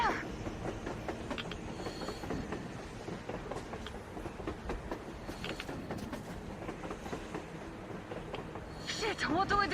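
Rail clatter from a train in the Metro Exodus video game runs steadily with clicking wheel beats, then swells louder at the end with a brief screech, under spoken dialogue.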